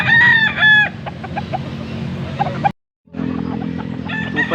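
Gamecock rooster crowing at a cockfighting bird market in Angeles, Pampanga, loud and close, with clucking and a busy crowd murmur beneath; a second crow starts after a brief cut.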